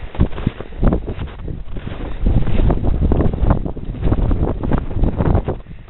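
Strong wind gusts buffet the microphone on a mountain overlook on the Gothics in the Adirondacks, producing a loud, continuous rumbling roar with no voices.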